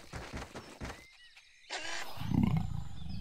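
A clouded leopard mother in a children's animated show about baby animals lets out a loud, rough roar that swells and holds, following a stretch of quieter rustling.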